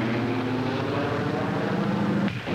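Propeller airplane engine roaring at full throttle during a carrier landing wave-off, a loud steady droning buzz throughout, briefly dipping near the end.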